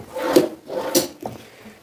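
A large drawer of a newly assembled mini kitchen unit slides open with two wooden rubbing scrapes, followed by a lighter knock, close and alone.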